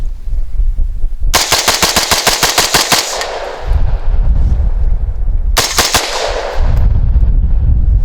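An ATI Omni Maxx polymer rifle with a muzzle brake fires 223 ammunition at a rapid rate. Two loud, close bursts of quick, evenly spaced cracks are separated by a short pause, with ringing echo after each string.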